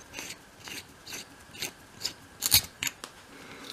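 A mini drill bit boring a small hole in a tiny wooden part for a 1/12th-scale dollhouse corner unit: quiet, irregular scratchy rasps and short scrapes repeating close by, with no talking.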